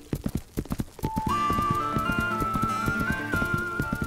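Cartoon horse hooves clip-clop in a quick, even rhythm, loud and close, joined after a second by a sustained sliding whistle-like tone over the ongoing hoofbeats.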